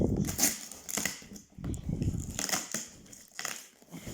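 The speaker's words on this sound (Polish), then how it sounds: "No nożyczkami, Jasiu." Scissors cut through crinkly plastic packaging up close, giving repeated crunching, rustling snips in uneven bursts with short pauses between.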